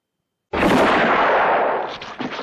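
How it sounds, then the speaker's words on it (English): A single loud gunshot from the final duel of the film The Good, the Bad and the Ugly cracks out of silence, its blast ringing and echoing for over a second before trailing off. "Then, the deciding gunshot follows right after."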